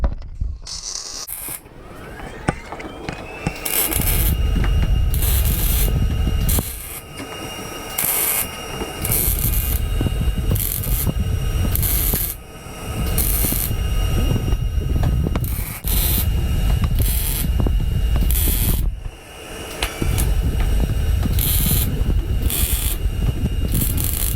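Rusted roof sheet metal on a Toyota FJ60 being cut with a power tool: loud, harsh grinding bursts with a whining edge, separated by short pauses, close up, with no talk.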